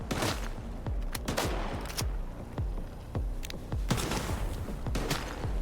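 Rapid gunfire in the video game Stalker 2 during a boss fight in a lab, with repeated loud bursts and shots crackling steadily over a dense, continuous background of game combat noise.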